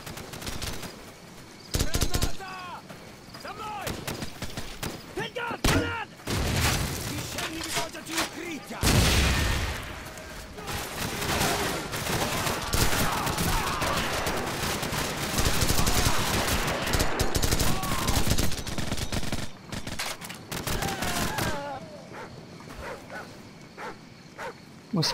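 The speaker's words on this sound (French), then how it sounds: "C'est quoi ce coup de feu?" Bursts of rapid gunfire and booms erupt amid a dense, noisy Call of Duty 4: Modern Warfare game soundscape, with a voice talking intermittently over the action.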